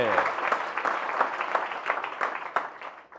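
Audience at a lecture claps steadily for a few seconds, a dense, fairly loud run of applause with a faint voice beneath it that fades near the end.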